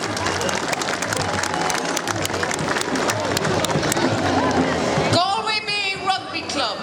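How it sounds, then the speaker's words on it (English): Crowd at a Galway rugby club match on St. Patrick's Day claps and cheers for a player's Connacht debut, a dense wash of clapping under an announcer's voice, then a shrill burst of whistling or cheering near the end. "Everybody clap your hands and wings alike for Eddie"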